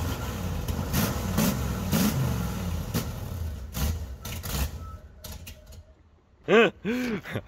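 A motorhome engine rumbles loudly through a burnout attempt, then goes quiet before sharp, rising rev bursts near the end.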